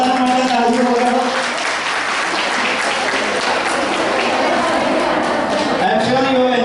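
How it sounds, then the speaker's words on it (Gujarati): Students applaud themselves at the end of a Mahatma Gandhi school quiz, a broad wash of clapping filling the room. Voices can be heard at the start and end, with the applause swelling loudly in the middle. "તમારા પોતાના માટે તાળીઓ વગાડો."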